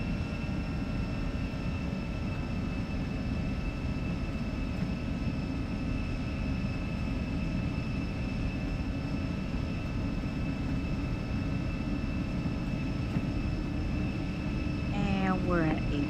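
An Embraer E175 jet rolling for takeoff from Charlotte Douglas produces a constant loud engine roar with steady whining tones, heard from inside the aircraft without interruption.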